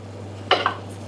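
Cooked vegetables land in a metal pot with two quick clanks and scrapes over a steady low hum.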